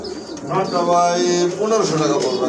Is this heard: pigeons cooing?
yes